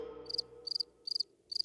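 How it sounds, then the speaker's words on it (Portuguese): Cartoon cricket chirps played as a sound effect, four evenly spaced bursts of rapid high trills, clear and close, over a faint fading tonal hum. "Grilos MP3."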